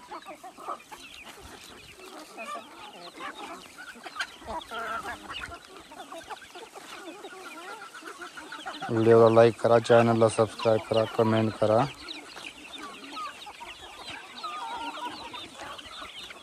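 Free-range native desi hens on a farm cluck scattered and low beneath someone talking, and a loud rooster crow rings out for about three seconds midway.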